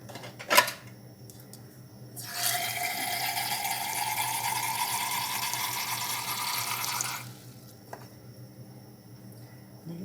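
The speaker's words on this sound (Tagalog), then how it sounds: "Dagdagan ko siya tubig, guys, kasi medyo kulang." Water poured into a cooking pot of mussels and softened chayote, a steady rushing pour of about five seconds that rises in pitch as the pot fills, close and alone.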